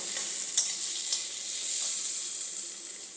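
Potatoes frying in a pan give off a steady high hiss of sizzling oil, close and even, with a few sharp crackles and no talking.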